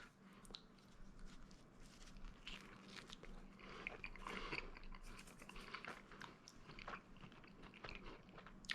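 Someone bites into and chews a slice of homemade pizza up close, with repeated crunchy bites and moist chewing sounds spread across several seconds, no talking.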